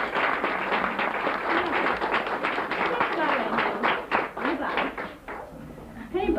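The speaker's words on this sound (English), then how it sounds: "Give them all a big clap." An audience at a children's nativity play claps for the young performers, a dense, steady round of applause of many hands that thins out toward the end, with voices talking underneath.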